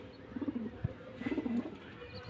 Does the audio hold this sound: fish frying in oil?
no